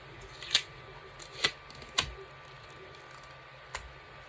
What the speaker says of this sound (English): So I'm gonna pull the tape off.